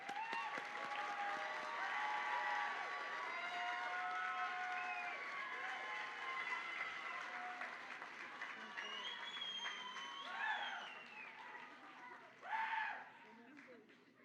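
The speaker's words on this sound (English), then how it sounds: "Let's give a round of applause for all the graduates." Audience applause for graduates at a pharmacy technology pinning ceremony, a steady sustained wash of clapping throughout that thins slightly toward the end, with crowd murmur and some voices mixed in.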